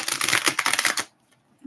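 Tarot cards shuffled by hand: a close, fast, riffling flutter for about a second, then near silence with a faint rustle at the end.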